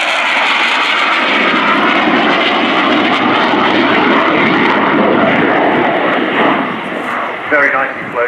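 MiG-29 Fulcrum jet performing a slow roll at the Royal International Air Tattoo, a loud continuous roar of jet engine that dominates throughout, with an announcer's voice faintly underneath.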